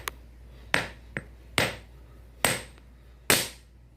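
Hammer striking a sample of whistle fuel during an impact sensitivity test, four sharp, fairly close blows with brief decaying rings between, plus a couple of lighter taps.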